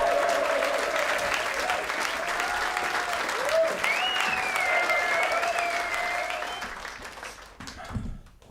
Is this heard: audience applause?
yes